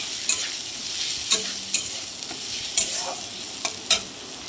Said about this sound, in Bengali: আমার এখনও ভাজা হচ্ছে